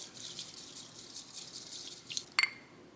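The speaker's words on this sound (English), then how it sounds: "we're just whisking as much as we can until we get the right thick," A bamboo whisk swishes matcha in a bowl with rapid, soft rhythmic liquid strokes, fairly close and quiet, ending with a couple of sharper clinks.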